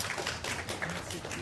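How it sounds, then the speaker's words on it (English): Audience applause for a lecture speaker at a spatial planning and climate adaptation lecture series, a short, dense wash of many hands clapping at steady loudness. "So please give applause to our speaker today."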